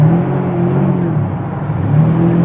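A Lamborghini Diablo SV pulls away at a New Year's car meet in Japan, its engine droning steadily with a rising rev and a low rumble throughout, fairly close and with no talking.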